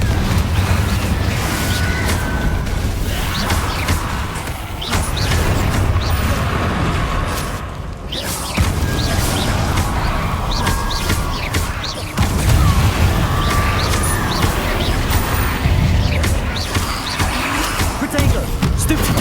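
Spell blasts, fiery bursts and explosions from the Hogwarts Legacy video game, loud, dense and continuous, with booming impacts repeating through the combat and voices shouting spell names over them.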